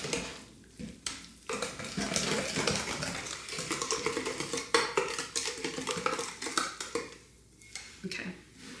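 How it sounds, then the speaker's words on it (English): A whisk beats an egg into buttermilk pancake batter in a bowl, a run of quick, rhythmic clinking and sloshing strokes close by with short pauses between bursts. "we're gonna whisk this just enough to get that egg broken up"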